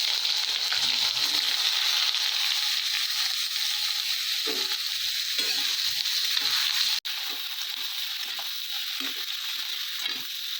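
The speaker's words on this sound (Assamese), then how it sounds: "এতিয়া ইয়াতে আমি বেঙেনাখিনি দি দিম।" Brinjal frying in hot oil with fenugreek seeds makes a steady, close sizzling hiss throughout, with soft scraping and stirring underneath.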